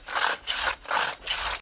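A wooden guitar rosette being sanded by hand, four even, raspy back-and-forth strokes in a steady rhythm, close and fairly loud with nothing else heard.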